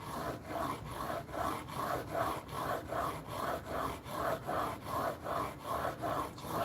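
A chisel being sharpened on a whetstone, rubbed back and forth in a steady rasping rhythm of about two strokes per second, close and fairly loud with no talking.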